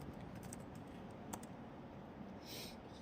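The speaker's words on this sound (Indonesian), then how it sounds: "kita ingin mengetahui konfigurasi IP dari komputer kita, kita bisa mengetikkan ipconfig" Quick, faint keystrokes on a computer keyboard as a command is typed into a Windows command prompt, a short run of soft clicks over a steady background hiss.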